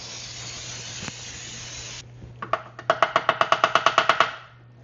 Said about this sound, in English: use the non-stick pans here, spraying it very well.